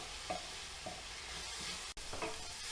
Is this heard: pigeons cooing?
no